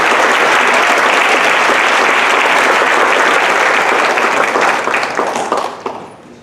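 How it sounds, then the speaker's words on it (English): Dense, steady applause from an audience at a school senior memory night, honoring graduating senior leaders; it stays loud and continuous for several seconds, then thins and fades out. "Another round of applause for them. They were great leaders."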